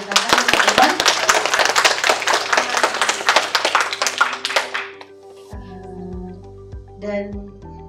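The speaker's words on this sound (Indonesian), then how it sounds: "Tepuk tangan Kak Komar." Crowd applause for an honored guest at a regional language ambassador pageant, dense clapping for about five seconds that stops abruptly, followed by a speaking voice over a quiet hall.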